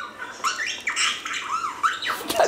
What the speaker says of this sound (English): Is that really the bird making that sound?